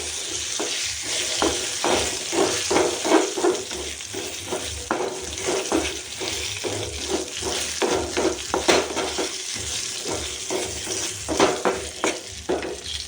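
Salt being stirred into onion tomato chutney frying in a pan: steady sizzling with repeated scraping strokes of a spoon, close and continuous, no talking.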